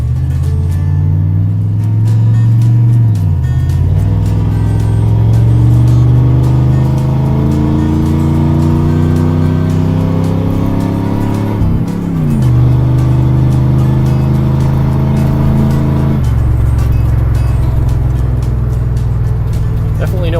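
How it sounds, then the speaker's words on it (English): A 5.7 TBI engine accelerates hard on a test drive after an EGR valve replacement, revs climbing repeatedly through several shifts, loud and steady from inside the vehicle, with someone talking over it. "Well, I'm just taking it for a test drive here, and that definitely took care of the problem."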